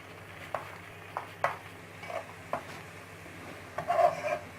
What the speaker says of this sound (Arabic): هفضل اقلب لغاية ما البصلة تحمر معايا وتقرمش